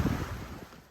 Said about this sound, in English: with the wind approaching 20 knots